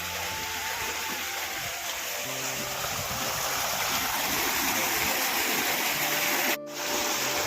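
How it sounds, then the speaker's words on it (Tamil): Pumped irrigation water pours into a paddy field on a farm, making a steady, loud, close gushing rush that runs throughout and drops out for an instant near the end. "இவ்வளோ அழகாக தண்ணி இறைச்சிட்ருக்கு"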